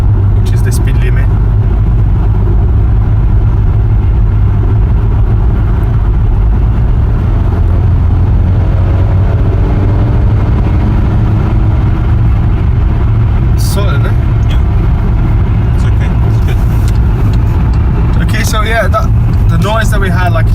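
Skoda Superb driving on a road and accelerating, a loud steady engine and road rumble filling the cabin throughout, with faint passing noises late on and no clear talk.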